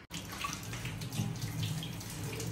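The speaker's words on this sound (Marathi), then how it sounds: "फुलांना आणि कढीपत्ता यांना धुवून घ्यायचं" Water runs over flowers and curry leaves as they are washed before making hair oil, a steady close splashing stream.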